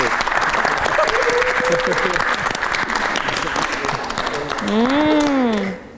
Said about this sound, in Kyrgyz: Кол чаап коелучу, караңыздарчы.